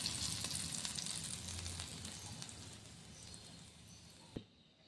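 Tadka of asafoetida and green chilli sizzling and crackling in hot oil in a pan, a steady close hiss with small pops that fades out, ending in a single clatter.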